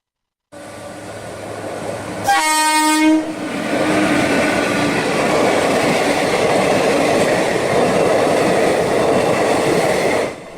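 A train horn blasts loudly, and then a train thunders past close by a railway level crossing in a steady, continuous roar of wheels and cars.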